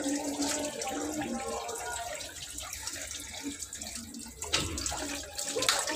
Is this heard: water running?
yes